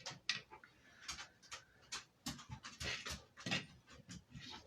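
A dog walking around indoors, its tags rattling in quick light jingles mixed with soft footsteps and faint panting, fairly quiet and close, with no speech.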